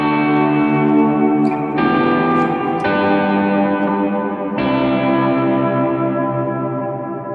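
An electric guitar plays sustained chords through a reverb effect, each strum blooming into a long, dense wash that rings out and slowly fades, loud and alone.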